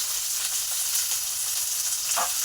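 Onions and green chillies sizzle and fry steadily with brinjal in a pan for mashed brinjal curry, a continuous close hiss with a brief brighter spatter near the end.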